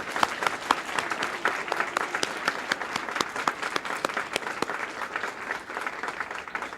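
An audience applauds at the live announcement of Connecticut's 2024 Kid Governor, sharp individual claps standing out from a steady wash of clapping that holds at moderate, even loudness for several seconds.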